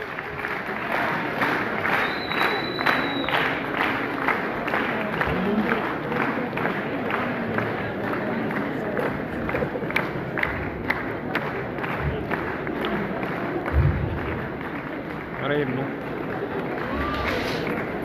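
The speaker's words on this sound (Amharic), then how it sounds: "የፊልሙ መሪ ተዋናዮች ክሮች አጠቃላይ የመጡ ስለሆነ ሞቅ ባለ ጭብጨባ ተቀበሏቸው" Warm, sustained applause and crowd noise from an audience welcoming the lead actors at a film premiere and launch event, with dense clapping and cheering running steadily throughout at close range.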